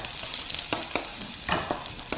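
Onions stir-fry over medium-low heat in a pan for a Korean squid stir-fry, giving a soft steady sizzle broken by several light scraping stirs, close and alone.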